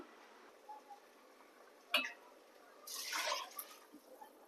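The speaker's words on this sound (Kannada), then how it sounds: "ನೀರು ಹಾಕ್ತಾ ಇದ್ದೀನಿ" A brief gush of water poured into a pot of fried ingredients for pea and potato pulao, preceded by a faint clink, in an otherwise quiet room.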